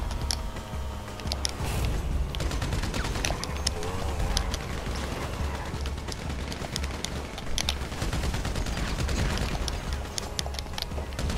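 A minigun fires in Grand Theft Auto V, its dense rapid-fire rattle clattering almost continuously over a low, droning game backdrop, close and loud throughout.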